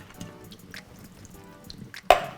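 Canned red kidney beans being strained and rinsed, with quiet scattered drips and trickling liquid followed by a single louder splash near the end.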